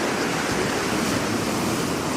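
Ocean surf rushes in a steady, loud wash of broadband noise with some wind buffeting the microphone, continuous and without a break.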